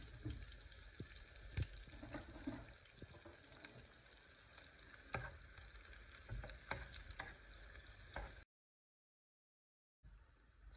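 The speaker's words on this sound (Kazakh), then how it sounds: "кішкене қызартып қуырып аламыз" Chopped onion frying in oil in a pan, a steady crackling sizzle with scattered pops and stirring knocks, close and fairly quiet, cutting out briefly near the end before resuming.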